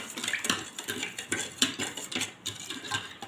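A spoon stirs agar agar powder into cold milk for pomegranate ice cream. It clinks and scrapes quickly and repeatedly against the side of a bowl, close and fairly soft, with no talking.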